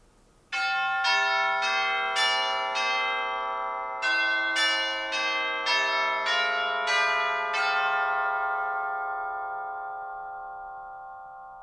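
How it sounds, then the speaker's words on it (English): Hanging tuned organ chimes struck by a hammer mechanism ring out in a slow sequence of about ten bright, bell-like strikes, each tone sustaining and overlapping before the whole chord gradually decays. "The chimes hang, and a hammer mechanism strikes the chimes,"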